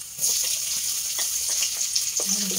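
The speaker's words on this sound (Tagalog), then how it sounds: "Gigisa natin yung ating luya. Pagkatapos guys, ang sunod natin gigisa ay bawang." Ginger and garlic sautéing in a hot pan for pork tocino, a close, loud, continuous sizzle with light stirring scrapes and a brief clink near the end.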